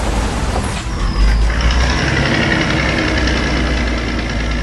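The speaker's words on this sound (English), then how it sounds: "here comes the blue tow truck" An animated blue tow truck pulls in with a loud, close diesel rumble, a hissing air-brake release near the start, and a steady idling engine drone that continues without pause.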